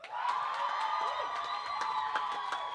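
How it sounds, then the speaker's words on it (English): An audience at a university physiotherapy students' beauty pageant claps and cheers steadily for a contestant in a brief burst of mid-level crowd noise. "Give your applause for Nick Blacker."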